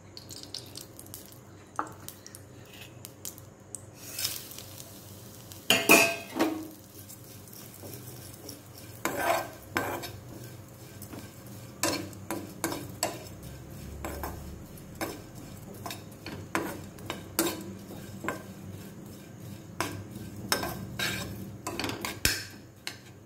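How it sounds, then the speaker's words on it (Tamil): Flattened rice (poha) roasting in a little ghee in a pan, with irregular spatula scrapes and clinks against the metal over a low, steady background; moderately quiet, with no talking. "கொஞ்சமா நெய் விட்டு அவல் வறுத்துக்கலாம்"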